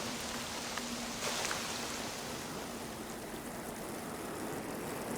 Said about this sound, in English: And this is how the first rain in our planet's history began.